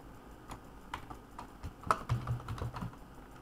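Quiet, irregular clicking of keys being typed on a wireless computer keyboard, close by, with a short burst of faster keystrokes and no speech.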